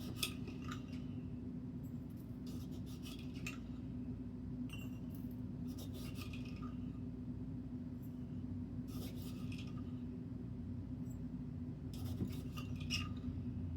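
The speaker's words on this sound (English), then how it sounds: "I'm going to go ahead and put a half teaspoon of salt in each one of these jars" Canning salt being spooned into glass canning jars for pressure-canning dry pinto beans, with several short bursts of metal spoon scraping and clinking against glass over a steady low hum.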